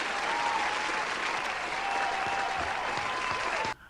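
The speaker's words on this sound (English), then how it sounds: "Let me go ahead and give you guys a good round of applause." Steady applause from a small group, clapping at an even level for several seconds before stopping abruptly near the end, with no voices over it.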